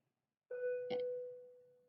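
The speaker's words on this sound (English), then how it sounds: "Pardon our school bell, my friends." A school bell rings in an art classroom, a single electronic ding-dong chime that starts sharply, strikes a second tone, and rings out as a sustained fading tone, loud and alone.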